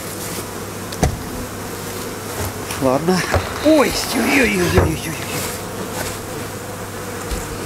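Honey bees buzz densely around an open hive during a swarm's transfer from a trap box, a close, continuous hum with individual bees passing near, as someone speaks a few words.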